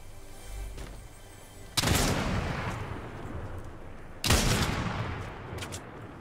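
Two loud, booming shots from Fortnite gameplay, each a sudden blast followed by a long rumbling decay, spaced a couple of seconds apart over low background noise.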